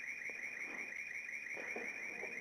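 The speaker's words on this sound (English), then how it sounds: "I've got an alarm going off in the building." An alarm sounds inside a building, a continuous high electronic tone pulsing in a fast warbling rhythm, steady and moderately faint at a distance, with some faint low background noise underneath.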